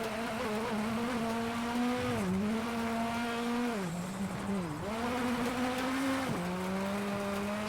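Rally car from WRC 8 racing through a lap, its engine droning loudly and continuously, pitch rising through the gears then dipping at shifts and corners, with a faint tire whine and no talking.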